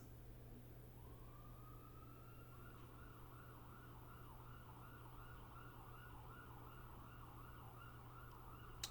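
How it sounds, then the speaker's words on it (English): Emergency vehicle siren wailing far off, a faint rising then steadily cycling tone over a low constant hum, continuous throughout. "There goes the sirens doing their thing in the background."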